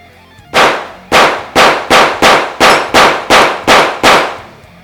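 A Glock 44 pistol chambered in .22LR fires ten evenly spaced, loud, sharp shots in quick succession during a test, each with a short ringing tail.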